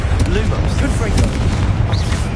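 Fiery Confringo spell explosions in Hogwarts Legacy mid-battle, loud booming impacts with crackling bursts in quick succession over dense, rumbling combat noise, with shouted voices mixed in.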